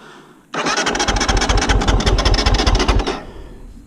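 A Kove 450 Rally motorcycle engine cranks and fires, then runs at a loud, close, rough idle for about two and a half seconds before cutting off abruptly.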